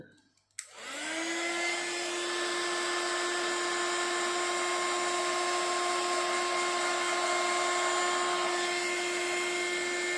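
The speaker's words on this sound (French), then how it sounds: "Et je chauffe ça avec mon heat gun." A heat gun blows steadily on a crafted card to make an embossing effect, switching on abruptly after a short quiet moment, then a loud, constant whirring hiss with a tonal whine holding nearly unchanged throughout.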